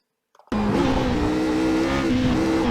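A Radical SR8 race car at Spa braking hard, the engine note bursting in loudly after a brief silence and holding a harsh, steady in-car drone with slight pitch shifts as it slows.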